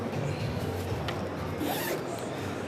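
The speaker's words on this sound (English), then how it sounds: "you just have one zipper, you open it" A zipper runs open on a padded speaker stand bag lined with thick foam, a close, continuous rasping pull lasting a couple of seconds with no talk.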